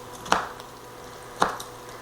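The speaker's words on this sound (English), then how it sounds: "And then we'll drag our knife through it." A knife chops through an onion on a cutting board, two sharp, crisp cuts about a second apart, close and clear over a quiet background.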